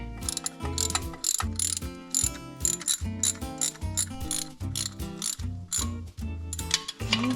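A hand ratchet clicks in quick repeated bursts while tightening a nut during intake and EGR work on a Volkswagen Jetta TDI, close and crisp with brief pauses between strokes.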